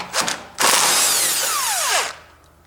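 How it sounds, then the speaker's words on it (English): An electric driver spins out 10mm bolts on a snow blower: a short burst of whirring, a pause, then a longer high-pitched run of about one and a half seconds that winds down with a falling whine, close and loud. "I use my electric driver"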